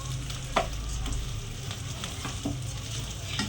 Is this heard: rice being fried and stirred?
yes